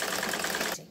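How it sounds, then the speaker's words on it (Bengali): A sewing machine stitching the side seams of a boy's fatua, a fast steady mechanical whirring rattle that runs close and continuous before stopping abruptly near the end, with no talk. "দুই সাইডের এই কাটাটা এইভাবে সেলাই করে নেব"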